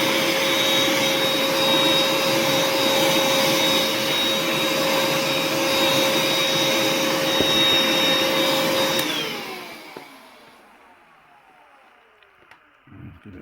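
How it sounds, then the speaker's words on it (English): A vacuum cleaner whirs loudly and steadily close by while cleaning a Bassett-Lowke model steam locomotive, then cuts off and winds down near the end, leaving a few faint clicks. "give it a go with the vacuum first"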